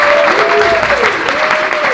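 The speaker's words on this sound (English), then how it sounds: "He also deserves a round of applause because he did so much." Steady applause from an audience, a thick wash of clapping hands throughout, fairly loud and continuous.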